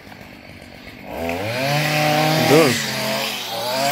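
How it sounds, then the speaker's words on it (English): A Stihl FS 70 R petrol engine revs up loud and close with a rising, wavering whine that swells and dips, as someone blows debris off an edge; a brief word is spoken at the start. "All you have to do now, get the blower, blow it off"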